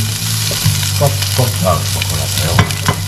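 Chicken skin browning in a hot pan for tinola soup, rendering its fat: a steady loud sizzle and frying crackle with occasional scrapes of stirring, no voices.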